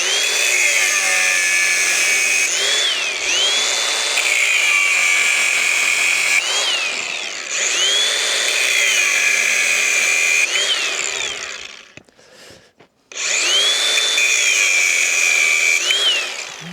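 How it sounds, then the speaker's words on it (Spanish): A power tool cuts through a steel Armex rebar cage at a mountain cabin foundation site, running loud and close in three long whining passes separated by short pauses, with no talking. "Entonces voy a cortar todo el Armex."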